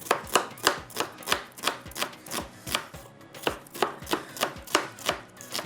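Onions are chopped on a board with a knife in a quick, even rhythm of sharp thuds, about two per second, close and clear with no talking.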